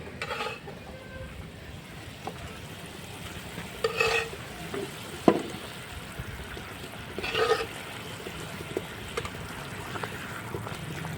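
Pieces of katla fish go into a curry bubbling over a wood fire, with a steady simmering hiss and a few soft splashy bumps and stirs scattered through.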